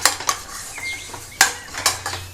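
A spoon scrapes and clanks against a pot while Kerala-style chicken curry masala is stirred, giving several sharp metallic taps and scrapes over a faint sizzle, close and clear, with no voices.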